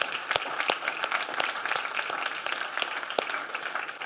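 A conference audience claps for the organizers, with a steady patter of many hands and a few sharper individual claps standing out, at moderate volume.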